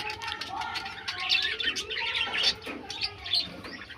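Fancy pigeons in a home loft, Andalusians among them, give off soft coos and chirps with a brief flutter of wings, close and moderately loud and continuing steadily throughout.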